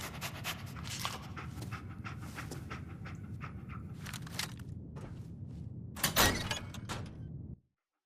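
A dog in Fallout 4 pants rhythmically and steadily up close, mixed with footsteps on the move and a brief clattering thud near the end before it cuts off.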